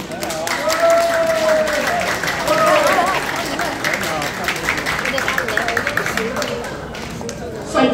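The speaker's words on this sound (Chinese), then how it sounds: "请掌声鼓励" An audience applauds a Latin dance group performance at a company dance event, a steady spread of clapping mixed with crowd voices and chatter throughout.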